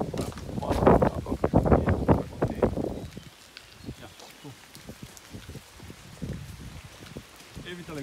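Light rain falls while people walk outside, a soft patter and rustle close to the microphone, with voices talking over it at the start and quieter footsteps and drops after.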